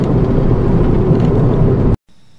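A convertible's engine pulls hard on a back road, a loud low rumble with wind roar for two seconds, then cutting abruptly to near silence.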